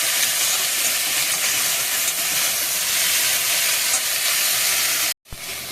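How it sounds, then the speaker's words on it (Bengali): Eggplant frying in a pan with turmeric, a loud, dense, continuous sizzle and hiss close by that cuts off abruptly near the end, with no talking. "একটু হলুদ, দিয়ে বেগুনটা ভেজে নেব।"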